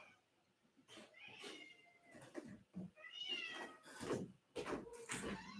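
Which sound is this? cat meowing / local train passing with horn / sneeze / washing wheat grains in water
cat meowing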